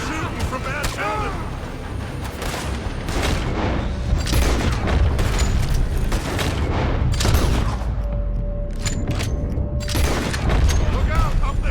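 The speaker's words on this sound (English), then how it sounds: "They're shooting from that building!" Gunfire from a building during a Red Dead Redemption 2 shootout at Beaver Hollow: loud, dense booming shots and rapid volleys that continue throughout, with voices shouting over the din.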